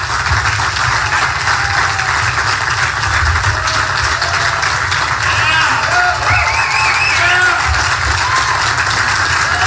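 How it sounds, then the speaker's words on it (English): Press and audience clap at a 2016 Donald Trump event, sustained dense applause from a crowd with scattered whoops and voices mixed in, steady and loud throughout. "some of the press was actually clapping"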